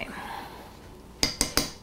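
A metal spoon works through sour cream in a dish, ending in three quick, sharp clinks against the dish, fairly close and with no talking.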